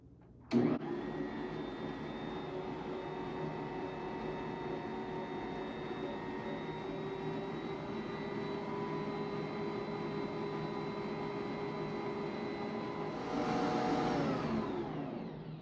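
An electric mixer whips butter as evaporated milk is added, producing a steady, loud motor whir that starts abruptly and runs for the whole stretch, rising briefly near the end.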